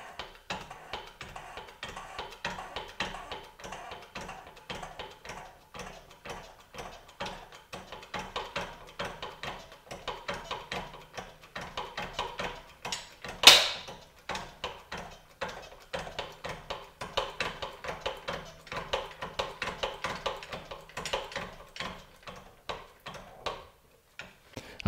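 Flux core welded 1/8 inch steel test pieces being bent, giving a steady run of quick metallic clicks and ticks throughout, with one sharp, loud snap about halfway through.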